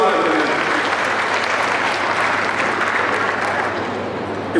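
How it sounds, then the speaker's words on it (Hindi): An audience at a district oath ceremony for newly elected officials gives loud, continuous applause for the chief election officer, with dense clapping holding steady throughout and easing slightly near the end. "उसके लिए उनको जोरदार तालियां"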